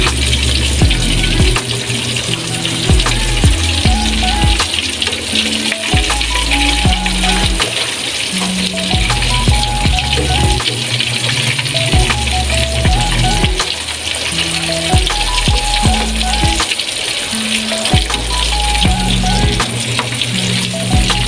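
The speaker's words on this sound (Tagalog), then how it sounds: "check ulit natin itong pinipirito" Chicken and pork chops fry in a pan with a constant loud sizzle and crackle, while low music plays underneath the whole time.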